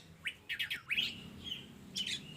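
Bright magpie robin chirps, a quick run of three or four tweets followed by a longer warbling call and a couple of fainter notes, close and clear.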